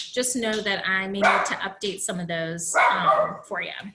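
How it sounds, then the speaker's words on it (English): A dog barks and yips repeatedly in the background of an indoor training session, partly masked by steady talking that runs through the whole stretch. "I'm so sorry for the dog barking."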